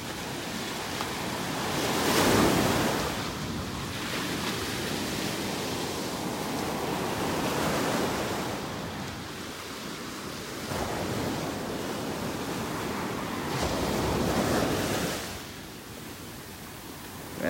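Ocean surf at Area 1 Beach in North Naples, Florida, rolling in broad washes that swell and fade every few seconds, with wind buffeting the microphone.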